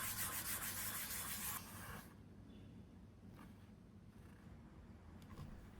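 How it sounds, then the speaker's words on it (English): High grit sandpaper rubbing over dyed black leather, lifting dye for highlights; a loud broadband scratchy sanding for the first second and a half, then quieter intermittent light rubs over a low background hum. "With some high grit sandpaper we can also remove some of the black dye"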